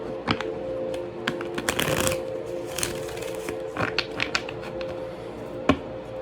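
A deck of reading cards is shuffled by hand for a pick-a-deck reading, with steady riffling, flapping and tapping that continue for several seconds, close and clear, with no voices.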